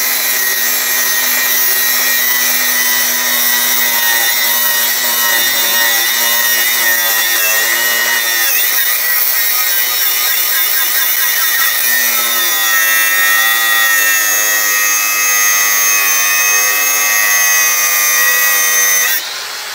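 A cordless rechargeable grinding machine cuts through material steadily for about twenty seconds, a loud, continuous high whine with a slight dip in pitch midway before it resumes and runs on to the end.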